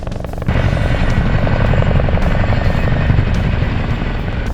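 A helicopter at a helipad, a loud close roar of rotor and engine that rises sharply at the start and then holds a dense, steady throbbing wash.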